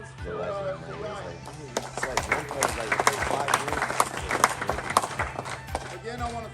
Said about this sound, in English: Round of applause for Ryan.